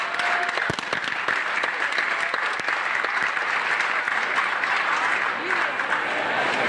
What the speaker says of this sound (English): I want everyone to give them a grand applause because they made this happen